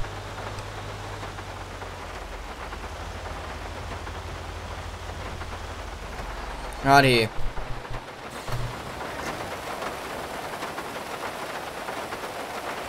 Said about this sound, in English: Yeah, let's get it raining.